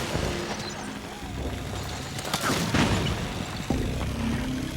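Suppressing gunfire in the game Metal Gear Solid 4, with scattered booms and crackling shots over a rumbling battlefield backdrop, a few sharper bursts standing out near the middle.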